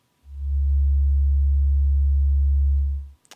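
A steady low-pitched sine tone from an Intellijel Shapeshifter synthesizer oscillator, loud and sustained for nearly three seconds, then stopping, followed by a couple of faint clicks.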